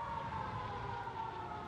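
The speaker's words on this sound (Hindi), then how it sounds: "ये ऑडियो सायरन बज गया" Faint emergency siren wails steadily in Call of Duty MW3 on Rebirth Island, a continuous tonal whine under a dense bed of game background noise, with no voices.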